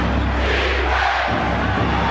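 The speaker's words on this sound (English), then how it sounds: "Crowd is in it for one of the few times today." A basketball arena crowd at a 1995 Knicks vs Pacers playoff game roars loudly and steadily, a dense wall of cheering and yelling that fills the entire stretch.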